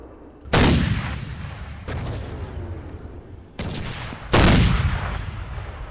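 Video game gunfire near an airfield: heavy, loud booming shots and bursts, with four sharp blasts each trailing into a long rumbling decay, close and dominant, no voices.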